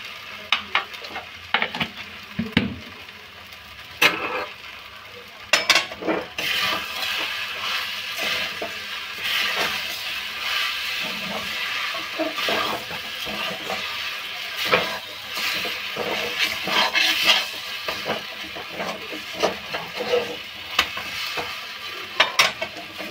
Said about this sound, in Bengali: চিনি দিয়ে পাক দেওয়া হয়ে গেছে।